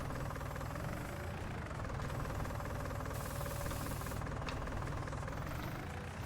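Tractor engines in Farming Simulator 19, Oakfield Farm map, run as a steady, continuous mechanical drone with a low knocking rumble, unbroken and fairly loud for the whole stretch, with no one talking.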